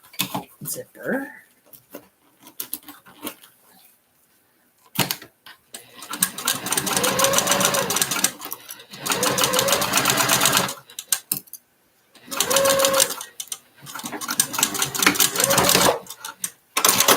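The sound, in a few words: vintage sewing machine stitching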